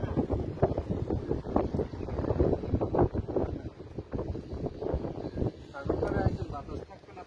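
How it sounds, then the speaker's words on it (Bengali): Strong sea wind gusts across Kuakata beach and buffets the microphone with a rumbling roar, while people talk nearby. "আজকে তো খুব সুন্দর বাতাস পাচ্ছি।"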